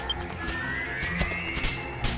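Horse whinnying in Dragon Quest VIII as an unbroken mount bucks against its rider, a few short bursts over a steady background of game audio.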